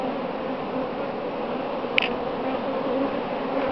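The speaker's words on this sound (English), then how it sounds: "Morning bees." Honeybees buzz in a continuous, close hum from an open hive, with a single faint click partway through.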